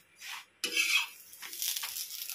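Oil sizzles in a pan as food is stirred and flipped, with a metal utensil scraping and a soft hissing fry close by, without any talking.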